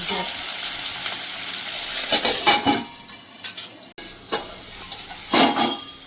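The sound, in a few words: potatoes lightly frying in a pan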